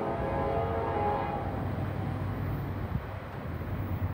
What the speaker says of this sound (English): We hear a train.